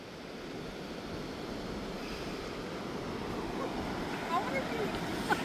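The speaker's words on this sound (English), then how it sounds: "look at the waves blowing in" Ocean surf at an Outer Banks beach in North Carolina, a steady soft wash of waves under wind noise, fairly faint, with brief voices near the end.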